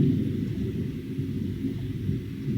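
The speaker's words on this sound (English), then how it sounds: "You hear that? That's thunder." Thunder on a summer day in North Carolina, a steady, heavy low rumble rolling on without a break, fairly loud and deep, with no voices over it.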